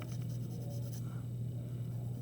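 Pencil shading on paper while texturing fur on a cartoon beaver drawing, a steady close scratchy scribbling that continues throughout with no talking.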